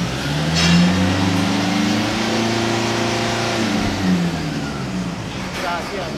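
An 8-year-old Toyota Kijang Innova diesel engine revs up close and loud, the pitch rising and then easing back down over a few seconds before settling near idle.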